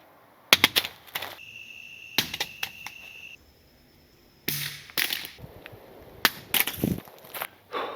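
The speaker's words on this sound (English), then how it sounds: "I went ahead and dropped it every 500 rounds. Here is your drops." A Surefire X300 Turbo weapon light mounted on a gun is dropped repeatedly onto a hard surface, giving several sharp, loud clattering impacts in separate bursts with quiet gaps between them.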